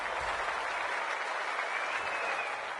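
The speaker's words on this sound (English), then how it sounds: "The crowd already making plenty of noise as the captains come together in the middle." Crowd noise at an Australian rules football match fills the stadium in a steady dense wash of cheering and applause as the captains meet, loud and continuous throughout.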